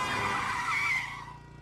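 A car pulls out with a loud tire skid, a sharp squeal that holds strongly for about a second, then fades as the car moves away.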